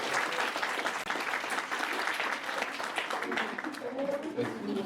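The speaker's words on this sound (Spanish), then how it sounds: "Un aplauso para el maestro Andrés." Moderate applause from an audience at a public consultation forum in Mexico City, honoring a speaker; a steady wash of clapping that thins slightly toward the end as voices emerge.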